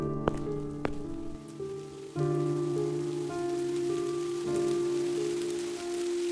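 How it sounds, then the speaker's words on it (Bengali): Cartoon rain and storm in a village setting: steady rain patters on surfaces under sustained musical tones, with a couple of sharp hits early on. "কে জানে এখন এই ঝড় বৃষ্টি কখন থামে"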